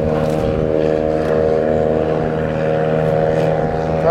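A Lancair aircraft's piston engine and propeller running on the ground during an engine test: a loud, steady, close droning hum with a strong harmonic throb that holds without change throughout.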